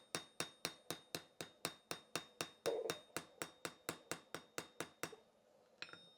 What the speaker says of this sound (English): I'm just going to pin these pins over.